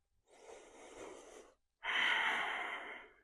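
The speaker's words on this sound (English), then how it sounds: "Having those 3 breaths just to settle." Two deep, slow breaths in a quiet room during a yoga session, the first a softer inhale and the second a louder, rushing exhale, both close and clear with no talking.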